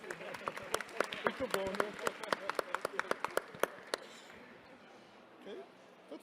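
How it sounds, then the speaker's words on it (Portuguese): Audience at a book fair panel discussion clapping in crisp, closely spaced handclaps for about four seconds, then fading out as a voice speaks. "Uma salva de palmas por ele."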